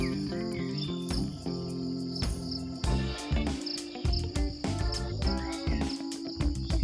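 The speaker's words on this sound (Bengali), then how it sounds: "চারিদিক থেকে পাখি, ঝিঝি পোকা, সব কিছুর আওয়াজ।" Forest on a hill temple trek, filled with a constant shrill chorus of crickets and insects, with layered tonal calls and chirps from birds around it, all close and steady.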